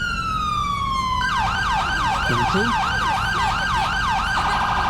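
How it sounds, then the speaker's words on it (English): Police vehicle siren in the GTA V LSPDFR game, first a long falling tone, then a rapid repeating wail that cycles steadily and loudly, with a brief spoken word partway through. "Now here's siren sound. That's your first siren."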